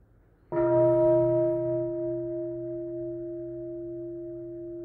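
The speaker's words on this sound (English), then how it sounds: "One sound of the bell, please." A mindfulness bell is struck once in a quiet hall, giving a sudden clear strike followed by a long, pure ringing tone that slowly fades over several seconds.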